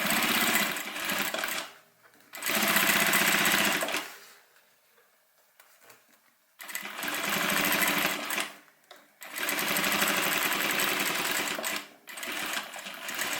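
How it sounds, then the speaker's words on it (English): A sewing machine top stitches down the side of a homemade airliner cabin bag, running in loud, close bursts of rapid stitching separated by short pauses. "Now I'm going to stitch the open side first"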